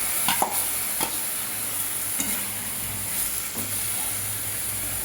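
Marinated chicken meat goes into a pan of sautéed onions, sizzling and frying steadily with a few sharp stirring scrapes and clatters, close and even throughout.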